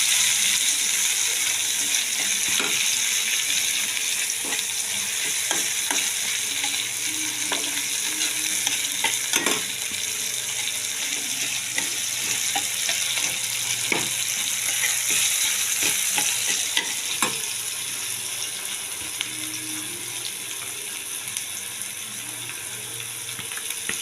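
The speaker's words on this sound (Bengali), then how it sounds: "পেঁয়াজটা ভালো করে ভেজে নিয়ে তারপরে আমি আদা রসুনটা দেবো।" Onions frying in oil for aloo dum, a long continuous sizzle close up with scattered sharp clicks and scrapes from stirring, fading slightly toward the end.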